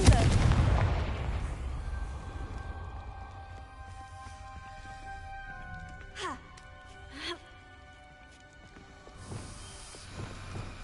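The Confringo fire spell in Hogwarts Legacy goes off as a loud, booming blast that rumbles and fades. Sharper whooshing bursts and pops follow later, under quieter game sounds.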